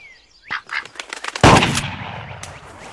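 Gunfire and duck calls from the Clay Hunt VR shooting game: a brief quack-like squawk, then a loud gunshot blast that rings out, with a few faint duck sounds trailing afterward.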